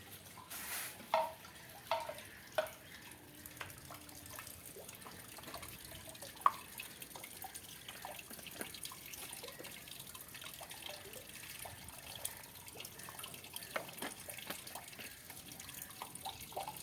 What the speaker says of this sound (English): So I have to fill this with lukewarm water, then mix some salt to it.